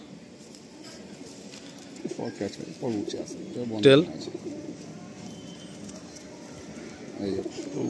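Madrasi pigeons kept as a pair in a cage give soft cooing calls and one louder coo, under a voice talking close by.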